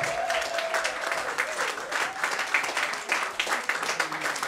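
A church congregation applauding in praise during a French-language service. The clapping is loud, dense and sustained, with a few voices calling out over it.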